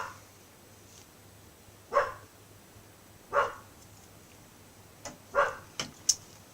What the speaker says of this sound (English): Dogs are barking at the neighbours.